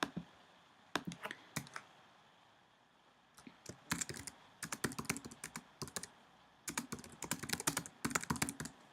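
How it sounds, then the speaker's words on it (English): Typing on a computer keyboard, close and clear, in irregular bursts of rapid key clicks separated by short pauses. "So again, you just type your text along the bottom."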